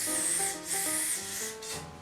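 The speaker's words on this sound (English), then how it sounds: "So this stuff is in a spray bottle, which makes it super easy to use" Neutrogena Ultra Sheer Body Mist SPF 70 sunscreen is sprayed from a bottle in several short hissing bursts, close and clear, with soft music underneath.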